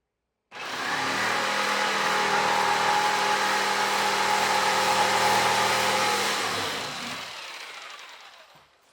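A jigsaw cuts through a tabletop: the motor starts abruptly, holds a loud, steady buzzing whine for several seconds, then spins down and fades out.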